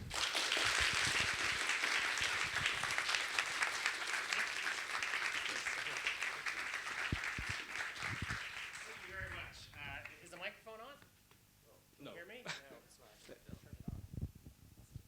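An audience applauds loudly to welcome a professor at a mathematics lecture: dense, sustained clapping that gradually thins out and fades, with voices beginning to speak over the final stretch.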